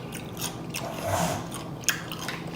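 Crunchy pickle bitten and chewed during a Captain D's seafood meal, giving a soft run of close, wet crunching and smacking with one sharper snap near the end, no talking.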